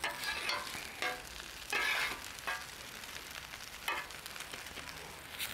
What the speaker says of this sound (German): deswegen brate ich das einfach nur von beiden Seiten noch ein bisschen an